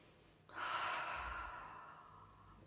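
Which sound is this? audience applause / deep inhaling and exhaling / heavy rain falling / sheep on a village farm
deep inhaling and exhaling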